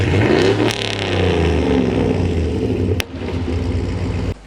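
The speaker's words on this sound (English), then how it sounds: "we also have a switch here for the exhaust. So it makes the exhaust louder and quieter," LS-swapped H1 Humvee V8 revving hard through an open exhaust valve, a loud, close, continuous roar with rising and falling engine tones, a sharp pop near the end before the note drops slightly.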